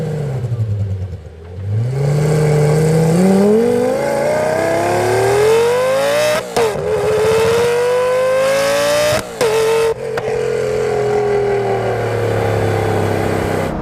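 Lamborghini Gallardo Super G with an aftermarket exhaust revving hard through rising gears, loud and close, its engine note climbing steadily with sharp pops and brief cutoffs between shifts.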